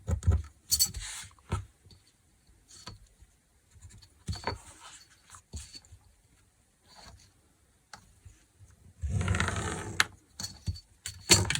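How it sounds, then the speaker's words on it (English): Pencil or pen drawing a short line on paper during a junk journal craft, with intermittent scratchy strokes and rustles separated by quiet pauses and a louder burst of rubbing near the end. "so I will draw myself 2 inches line"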